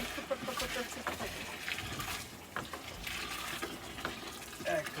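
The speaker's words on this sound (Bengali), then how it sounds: "পাঁচ লিটার পানি দিয়ে দিলাম" Five litres of water are poured into a large cooking pot at an outdoor cooking festival, a gushing, splashing fill heard alongside background voices and chatter.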